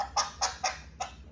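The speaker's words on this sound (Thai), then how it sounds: "เสียงไก่ เสียงไก่" A toy plays a chicken sound: four short clucking bursts spaced evenly, fairly close and clear, with no talking over them.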